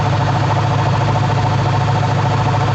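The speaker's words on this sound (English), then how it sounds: "I'm hoping it's just the bearing inside the pulley. It's causing all the ruckus and not the whole compressor shot." A noisy A/C compressor pulley bearing on a 2005 Ford F-150 with the engine running, a loud, steady droning rattle and grinding whir that holds without a break, close up.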